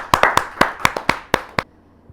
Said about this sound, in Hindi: जहाँ जोरदार तालियों के साथ